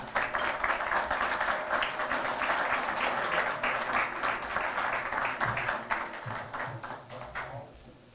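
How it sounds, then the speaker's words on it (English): An audience at a lunch keynote breaks into sustained applause, a dense, even wash of clapping that holds steady and then thins out toward the end. "you're all kind to clap like that"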